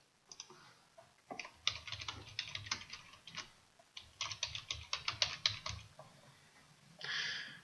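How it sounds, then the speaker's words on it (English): Quick keystrokes on a computer keyboard as a comment is typed, coming in irregular bursts of clicks separated by brief pauses, fairly quiet and close, with no talking. "Simply type the comment in the space provided."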